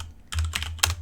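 A few quick bursts of keystrokes on a computer keyboard as a command is typed on a PC while configuring network switches, close and fairly quiet, with no talking.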